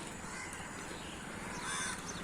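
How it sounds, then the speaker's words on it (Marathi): Crows caw repeatedly on a green riverbank in a village setting, the calls fairly distant and faint over a soft outdoor background. "ओरडणारे कावळे"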